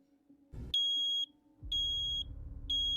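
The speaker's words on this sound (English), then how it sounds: "From the smoke alarm." A smoke alarm beeps three times in a steady rhythm, each beep a shrill, clear tone with a short gap between, near and fairly loud over a low background hum and some rustling.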